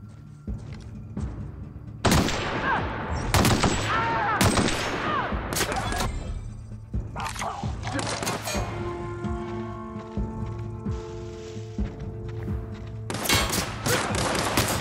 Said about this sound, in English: Guy has a big gun.